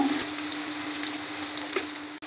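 Onions frying in hot oil for tempering make a loud, dense, continuous crackling sizzle up close, with scattered small pops and no voices.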